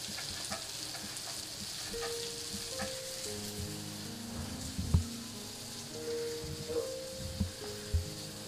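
Surmai fish frying in a pan gives a steady close sizzle with occasional pops and light utensil taps, and no one talks over it.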